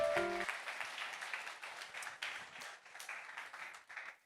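Audience at a lecture on gratitude applauding their seat partners, a steady wash of many hands clapping at moderate volume after a short tonal sound at the start.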